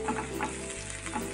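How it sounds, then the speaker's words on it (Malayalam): Small onions sizzling and frying in hot olive oil in a pan, a steady close crackle with light stirring, no talk. "അതിലേക്ക് ഞാൻ ആദ്യം സവാള ചേർക്കാണ്"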